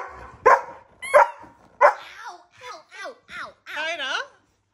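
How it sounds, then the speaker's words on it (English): Several dogs barking in a home, a series of close, loud woofs and yips with short gaps, ending in a higher whining bark. "These dogs are woofing now."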